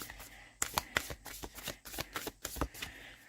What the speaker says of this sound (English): Let's pull us a card for all of us here.